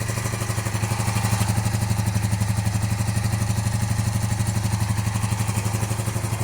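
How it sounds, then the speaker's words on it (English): A cafe racer motorcycle engine running with both exhausts spewing air, a steady fast pulsing idle with a rapid even beat and mechanical clatter, close and loud without pause. "Okay, it's running. Both exhausts are spewing air."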